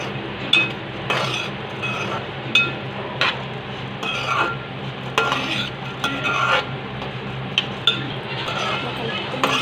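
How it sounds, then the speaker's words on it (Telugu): A spoon stirs lentils, toor dal, urad dal and almonds as they dry-roast on a low flame in a pan. Regular scraping strokes and metallic clinks repeat close up, with a faint sizzle and a voice talking. "ఇలా కలుపుతూనే ఉండండి, మళ్ళీ వండిపోతాయండి"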